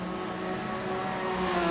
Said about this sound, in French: La Maserati, franchement, qui a un gros bruit aussi.